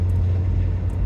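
Low, steady engine drone inside the cabin of a 2009 Acura RDX in 5th gear at light throttle around 2700 rpm in sport mode, a constant loud hum with no other sounds.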